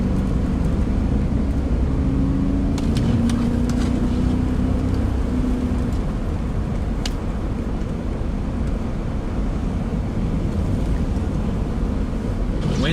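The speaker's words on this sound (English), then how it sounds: "Wind's definitely blowing." Steady wind roaring against a vehicle driving a winter road, a constant loud broadband rush with a low hum throughout and a brief tonal drone midway.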